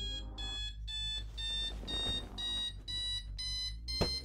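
An alarm clock rings in a steady run of about eight loud, close electronic beep bursts, each a bright tone separated by brief gaps, with no talking.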